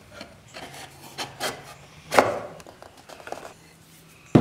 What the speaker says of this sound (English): now we're gonna hand sand